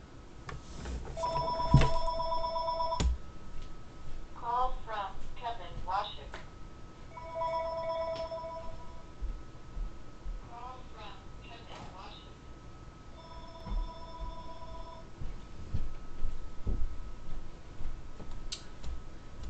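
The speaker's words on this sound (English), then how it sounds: "I had to throw the phone out of the damn room because it was ringing." A telephone rings in a room, with three separate ring bursts spaced several seconds apart over low background noise and warbling chirps between them.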